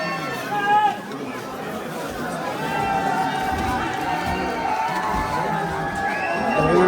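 A dense crowd of tourists chatters and calls out at a valley viewpoint in Kodaikanal, many overlapping voices forming a continuous nearby babble.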